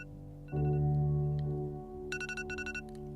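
Alarm clock ringing in a bedroom, a sustained electronic tone that starts abruptly, then shifts into rapid repeated beeping pulses, moderately loud and alone without talk.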